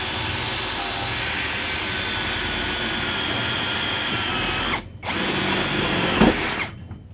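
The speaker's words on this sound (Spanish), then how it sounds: "Perforación en metal con broca de 15-32." A power drill with a 15/32 bit bores into metal, part of testing a Truper European-style bench vise; a loud, steady high whine runs throughout, with a brief cut-out near the end before the drilling resumes.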